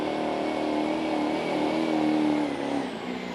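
Duramax diesel pulling truck revving hard at a truck pull, a loud sustained engine roar heard from a distance that eases off near the end.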